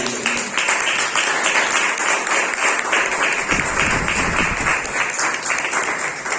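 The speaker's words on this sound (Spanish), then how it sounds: "denle un aplauso en esta mañana" A church congregation applauds loudly and continuously during an Easter Sunday service, dense clapping filling the space from start to end.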